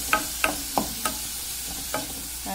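Bell pepper and tomato frying in a pan with oil, a low steady sizzle broken by about six sharp scraping stirs of a utensil, close and clear.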